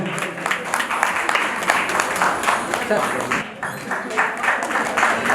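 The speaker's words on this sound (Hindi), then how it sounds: "हरिओम जी के लिए भाई जोरदार तालियां हो जाए" An audience at a city awards ceremony gives steady, dense applause, sustained at moderate loudness for several seconds with a brief dip near the end, and faint voices mixed in.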